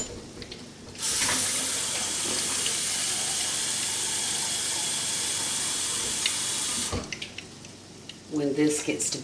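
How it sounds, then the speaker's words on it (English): Hot water pours into a hot pan of fried cubed steak drippings for gravy, giving a loud, steady sizzling hiss that lasts several seconds before tapering off, with a few clanks near the end. "you're just going to add water to it. This is hot water."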